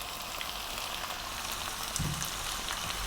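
Sliced onions and potatoes fry over lively heat, a dense, steady sizzle with a faint clatter of stirring, close and continuous.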